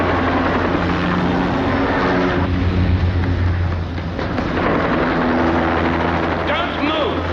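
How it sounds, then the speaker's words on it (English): A helicopter flies close by with a loud, steady rotor chop and engine roar that fills the whole stretch, and voices talk over it. "What'd you call that? That's a helicopter."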